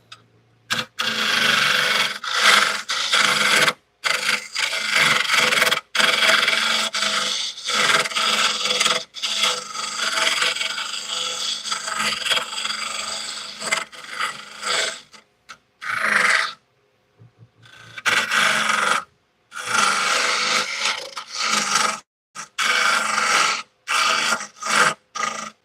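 Wood turning on a lathe with a scraper after gouges kept catching: a steady dry rasping scrape in long bursts, broken by short pauses and a longer stop near the end, no talk.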